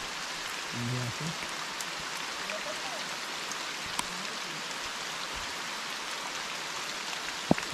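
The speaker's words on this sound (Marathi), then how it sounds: "पाऊस खूप जोरात आलाय" Heavy first-monsoon rain falls in coastal Konkan, a dense, even hiss of downpour throughout, with a brief low murmur of voices early on and a couple of sharp knocks near the end.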